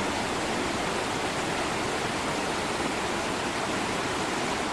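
Loud, steady rush of a mountain valley stream seen from a bridge near Beopgyesa temple on Jirisan, a dense unbroken hiss of falling water with no voices over it.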